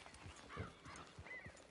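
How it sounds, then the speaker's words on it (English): Horse hooves clip-clopping at a steady walk in the Red Dead Redemption 2 video game, a series of evenly spaced close hoofbeats with a faint whinny-like tone mixed in, fairly quiet overall. "Get on the horse when you're ready."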